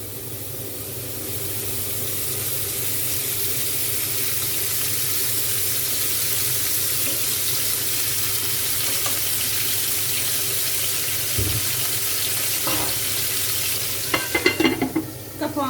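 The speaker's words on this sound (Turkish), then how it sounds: "Et parçalarımı tavama atıyorum. Aynı zamanda zeytinyağımı da ilave ediyorum." Meat pieces searing in olive oil in a hot pan for goulash, a loud, continuous sizzling hiss that swells slightly, with a few clattering bursts near the end, heard close with no talk.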